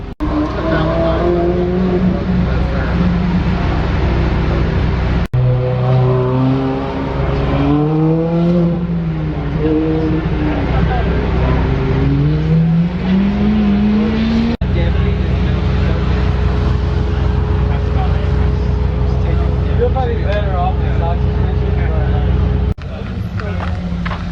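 Nissan 370Z racing around a track, engine revving up and down through gear changes with rising and falling pitch, loud and sustained, with voices talking over it at times.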